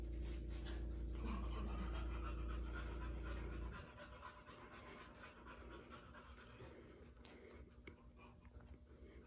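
A search dog pants rapidly and loudly right at the microphone, then the panting drops off and quieter breathing and faint handling sounds continue while people speak softly nearby.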